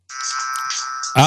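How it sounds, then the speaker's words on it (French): A telephone rings with a single steady electronic tone lasting about a second, loud and clear, and then a voice briefly exclaims. "ça c'est le téléphone"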